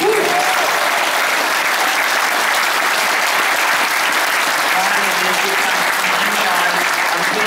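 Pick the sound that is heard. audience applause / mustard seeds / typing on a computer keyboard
audience applause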